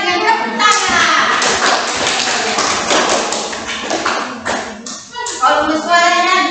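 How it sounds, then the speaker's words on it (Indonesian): A classroom of children claps loudly to welcome a presenter, a lively, uneven round of hand clapping with thumps and taps, while young voices chatter underneath. "kita sambut Nirma dengan tepuk tangan."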